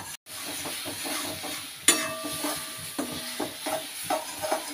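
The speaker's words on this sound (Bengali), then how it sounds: "তো যতক্ষণ না তেল ছেড়ে আসে এরকম নাড়তে থাকবো।" A spatula stirs paneer and peas frying in masala gravy in a pan, with steady sizzling and repeated scraping strokes, close and moderately loud, with a few sharper clanks against the pan.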